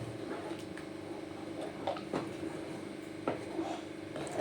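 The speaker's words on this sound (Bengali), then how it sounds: "এটা অনবরত নাড়তে হবে এইভাবে কিন্তু এটা নেড়ে যেতে হবে" Paneer being stirred continuously in a pan for kalakand sandesh: a spoon scrapes and knocks against the metal with irregular clinks and soft squishy churning, close and moderately loud, with a few sharper taps.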